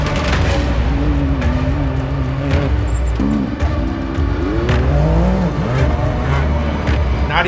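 Side-by-side UTVs roar past during a 12-hour off-road endurance race, with a dense, continuous engine drone and rising and falling revs as the leaders come through, close and loud, with no talking.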